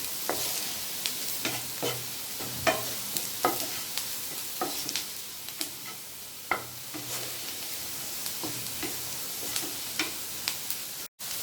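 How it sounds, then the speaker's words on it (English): Vegetables sautéing with turmeric in a pan, a steady close sizzle broken by frequent sharp scrapes and taps of a stirring utensil, with no talking. "We would give it a nice saute."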